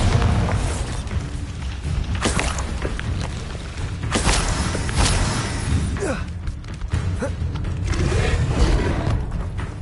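Bombarda explosion spell going off in Hogwarts Legacy, a string of booming blasts and thuds in dense game combat noise, loud and close, with a voice talking over parts of it.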